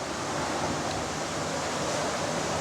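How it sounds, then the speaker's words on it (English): Ocean waves break on a beach just outside a luxury resort, heard as a steady, soft wash of surf noise with no voices. "That sound you may be able to hear is the waves just outside on the beach."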